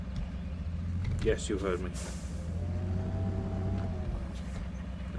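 A truck's low engine rumbles steadily as it drives toward a river in a video game, with a hiss of air and a rising whine, under someone talking.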